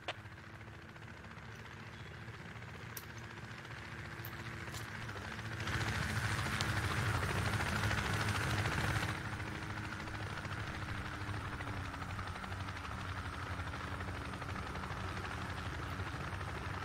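A helicopter flies in the military video game Project Reality, a steady close rotor drone and engine whine that swells louder for a few seconds midway, then settles back into a continuous hum.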